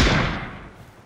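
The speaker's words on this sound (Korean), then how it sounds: "총소리 지린다." A single heavy gunshot in the video game PUBG Battlegrounds, a loud close boom that thuds and then trails off in a short fading echo, with no speech over it.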